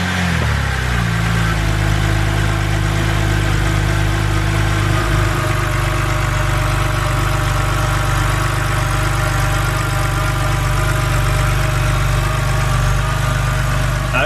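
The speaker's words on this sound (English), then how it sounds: "let's fire it up just to see how it sounds" A BMW N52 car engine idles steadily with a low, even hum and faint mechanical whir after starting, no voices.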